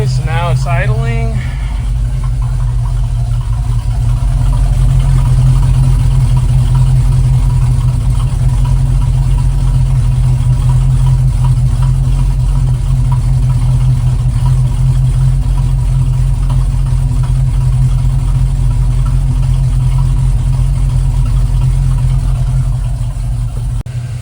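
A 1971 Chevrolet K10 running Dynomax Super Turbo 17733 mufflers idles smoothly after a cold start, giving a steady, loud, low exhaust burble up close. There are a few small rises and falls in engine note.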